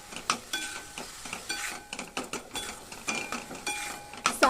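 Milk cooks with roasted powder in a pan for barfi while a spoon stirs and scrapes the bottom in a repeated rhythm, with soft sizzling and metal clinks up close.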